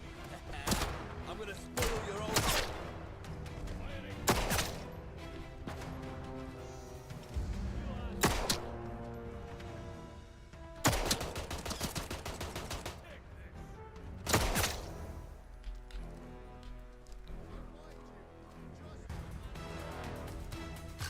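Revolver shots fired in a video game, several sharp loud bangs spaced irregularly through the stretch, some in quick pairs, with someone talking between them.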